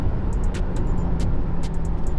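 An 8.4-liter V10 car with a six-speed Tremec manual runs with a loud, dense low engine rumble, punctuated by sharp repeated pops and crackles, close and with no voices.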